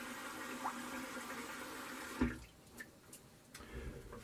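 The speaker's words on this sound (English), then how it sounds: "so let me rinse my face off" Water runs from a tap as a face is rinsed after shaving, a steady splashing flow that stops abruptly partway, followed by a few quieter drips and splashes close by.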